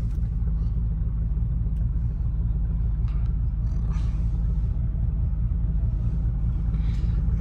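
A loud car engine rumbles steadily among quieter traffic, a continuous deep low drone that stays constant throughout with faint distant sounds above it.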